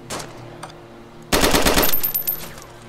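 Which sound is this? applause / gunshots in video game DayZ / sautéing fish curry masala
gunshots in video game DayZ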